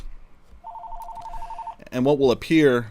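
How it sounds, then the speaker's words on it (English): An indoor telephone gives a rapid trilling ring lasting about a second, then a person starts speaking close to the microphone as the ringing stops. "Sorry about the phone. I'm just going to let it ring."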